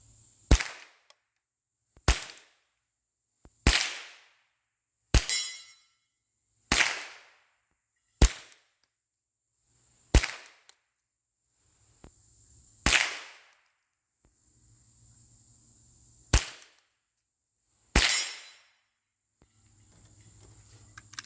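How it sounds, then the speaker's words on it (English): Slow target shooting, about a dozen sharp, loud gunshots fired singly at a steady, unhurried pace, each with a short decaying echo and quiet gaps between them. "I'm gonna go a little slower on this shooting."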